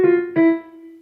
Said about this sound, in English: The third thing is using something called chromatic appoggiaturas.